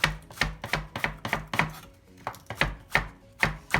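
Green onion being sliced into fine strips with a knife on a cutting board: a brisk run of sharp, evenly spaced chops, close and clear, with a brief pause midway.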